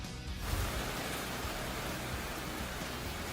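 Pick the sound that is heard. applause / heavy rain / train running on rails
heavy rain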